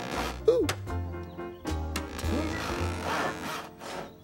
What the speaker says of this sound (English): sawing through the wood took rather longer than I expected